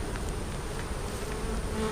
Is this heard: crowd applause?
no